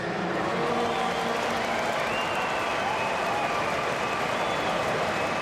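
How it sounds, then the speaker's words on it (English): A stadium crowd at the 2008 A-League grand final between Central Coast Mariners and Newcastle Jets applauds and cheers in a loud, continuous roar of clapping, with faint voices mixed in. "can you keep the applause going"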